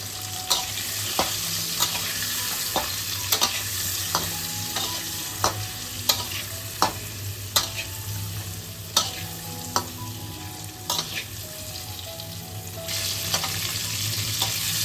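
Pointed gourd fries with turmeric and salt in a pan, a constant hissing sizzle punctuated by regular, evenly spaced knocks of a stirring spoon against the pan, over soft background music.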